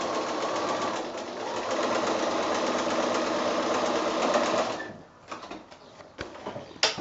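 A sewing machine stitches a quilt block seam with a steady whirring run for several seconds, then stops, followed by a few clicks and handling sounds of the fabric.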